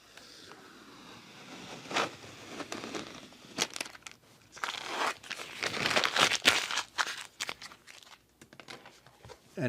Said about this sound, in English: Then pull your tape off.